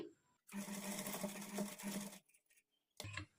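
A sewing machine stitches straight along a double fold on a kurti, one brisk whirring run of about two seconds with pauses and a brief restart, close and fairly quiet.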